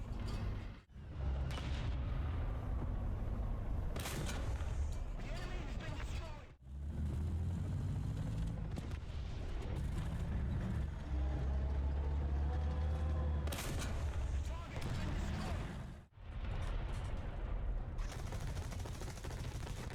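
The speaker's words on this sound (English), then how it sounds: "I hear the fast firing gun of an enemy" Rapid gunfire from an enemy Marder A1 autocannon in the tank game War Thunder, bursts of fast shots over a loud, continuous engine rumble, with a voice talking over the battle noise.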